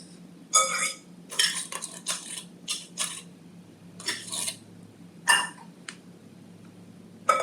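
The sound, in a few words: mixing spaghetti squash, mozzarella and tomato sauce in bowl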